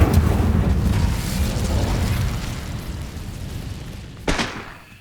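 The Incendio fire spell is cast in the video game Hogwarts Legacy, giving a loud, roaring burst of flame that slowly fades and ends with a sharp crackling pop.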